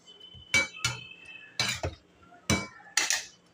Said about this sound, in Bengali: এবার ঢাকনাটা খুললাম